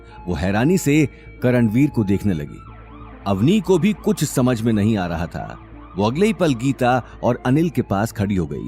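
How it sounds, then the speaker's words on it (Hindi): A police siren wails outside a door, running low beneath a steady Hindi narration voice that dominates throughout. "उन्हें दरवाजे के बाहर से पुलिस के सायरन की आवाज सुनाई दी।"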